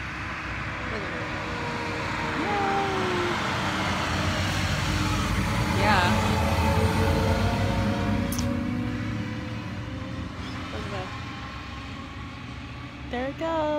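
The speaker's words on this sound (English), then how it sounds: "There's a really huge truck coming this way." A very large truck passes on a road, a broad low engine rumble swelling and fading over several seconds, with a person talking over it.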